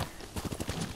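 Hooves of a horse clip-clop in quick, even steps in the Ghost of Tsushima game, a brief, moderately faint burst of trotting over a hissy background.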